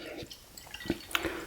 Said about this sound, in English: let's see how this pours